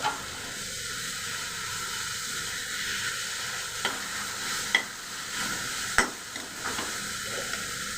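Ginger garlic paste fries in a pan, a continuous loud sizzling hiss with occasional scrapes and taps of a spoon stirring it, heard up close with no talking.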